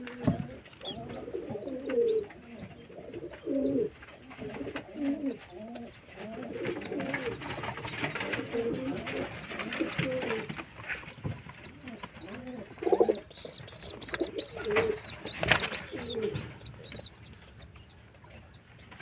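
Domestic pigeons coo repeatedly in a loft, low throaty calls overlapping at close range, with occasional wing flaps and faint background chatter.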